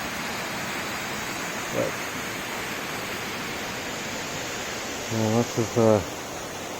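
Steady broadband rush of a creek flowing beside a hiking trail near the Upper Falls waterfalls, constant and moderately loud throughout, with brief bits of talk over it near the end.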